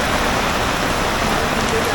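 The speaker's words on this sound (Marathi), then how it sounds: "खूप पाऊस पडतो आहे" Torrential rain falls in the Konkan countryside on Nag Panchami, a loud, unbroken roar of downpour close around, steady throughout with no pauses.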